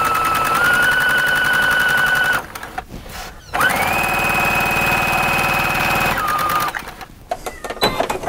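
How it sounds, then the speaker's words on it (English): Serger sewing a flat-felled seam on curtain fabric, running loud and close in two long bursts with a pause between and brief stops and handling noise after. "So let's sew this down."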